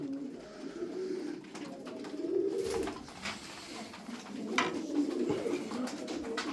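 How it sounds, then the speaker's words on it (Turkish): Several pigeons coo softly and repeatedly nearby, their low throaty calls overlapping against faint background rustling. "Kaç tane genç kuş var burada ya."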